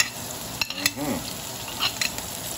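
Mushrooms and chili stir-frying in a pan, a constant sizzle broken by a few scraping strokes of a spatula against the metal, close and alone.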